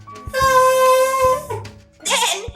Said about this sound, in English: you have your lips together so that you get a buzz like this